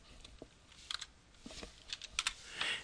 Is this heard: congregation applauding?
no